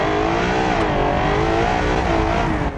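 A 1,800-horsepower family sedan in BeamNG revs hard, producing a loud, steady engine roar with rising and falling harmonic tones, continuous and close, with no talk over it.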